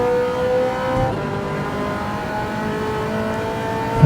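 A race car engine in Gran Turismo 7 holds a steady, loud drone with shifting harmonic pitch as the driver balances braking and throttle through a corner.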